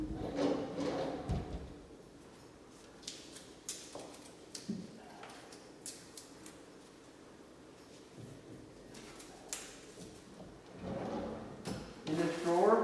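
A kitchen drawer slides open and shut a few times with light clacks and taps, close by, amid quiet room noise and some handling sounds.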